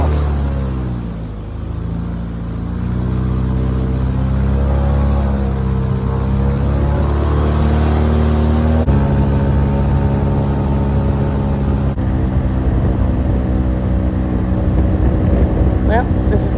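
An airboat engine revs loud and close as the boat heads out from a yacht club at sunset, a dense droning roar whose pitch swells and shifts throughout without a break.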